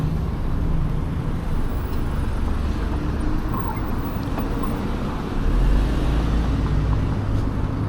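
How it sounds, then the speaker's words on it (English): Steady street traffic roars near an eBike riding along Main Street between Santa Ana and Tustin, a continuous loud rumble with a car passing close and the low engine noise swelling toward the end, no talking. "that car literally went around the pedestrian"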